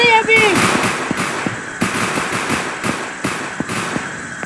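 Rapid gunshots ring out in the Roblox game Southwest Florida Beta, a string of sharp, evenly spaced cracks over about four seconds with a voice speaking underneath.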